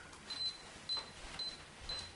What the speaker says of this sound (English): what I'm going to do is hit the shutter